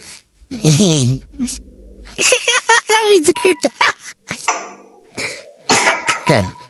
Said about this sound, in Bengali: কাশি শুরু হয়ে গেল কেন গ্রামে বাবা?